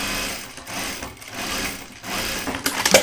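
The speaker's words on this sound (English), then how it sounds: "Your machine really knows how to sew straight" A home sewing machine stitches binding onto a fabric zip pouch in a steady, fast mechanical whir, running close and fairly loud with brief dips in speed.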